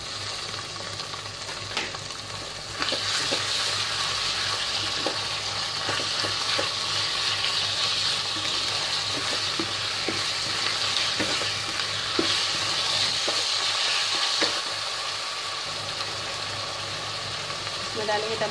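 Chicken keema sizzles loudly in a hot pan and is stirred with repeated scraping strokes, a steady close frying hiss that swells after a few seconds, with some talk over it.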